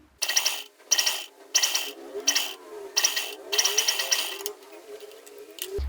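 A sewing machine stitches lace onto a kurti neckline in several short, close bursts of rapid mechanical whirring, separated by brief pauses, with no talking.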